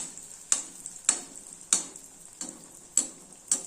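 Sweet appam batter frying in hot oil for Karthigai Deepam makes a steady close hiss, with sharp pops and ticks landing roughly every half second.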